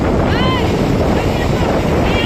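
A strong, steady wind at Rangbai beach, Porbandar, roars and buffets throughout, with faint whistling tones drifting above the rushing noise.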